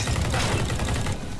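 Sniper gunshot from a no-scope shot in an online shooter game, a dense burst of loud gunfire and action noise running steadily throughout with no pause.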